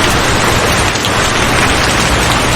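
Heavy rain pours down steadily, a dense, loud hiss of drops on surfaces with no gaps, filling the whole stretch without any voices.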